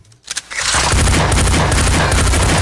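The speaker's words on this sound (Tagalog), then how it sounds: "Grabe yung shotgun." A shotgun blast in a cartoon lands as a loud, booming burst after a brief quiet start, followed by a sustained, crackling explosive roar that fills the rest of the moment.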